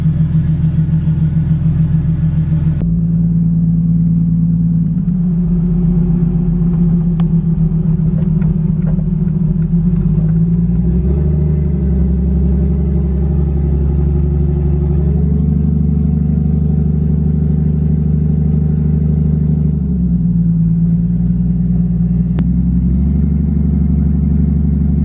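1JZ-swapped Ford Foxbody under way in second gear, a loud continuous low engine rumble that swells and settles as the throttle is rolled on, heard from inside with no talking.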